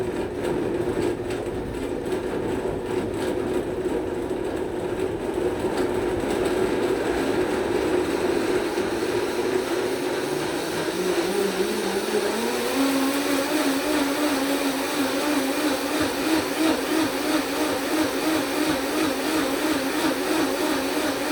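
Blender running at low speed while preparing a traditional cacao drink, a steady motor whir and churning that holds evenly, then shifts to a higher, smoother pitch about halfway through as the contents loosen, with no voices.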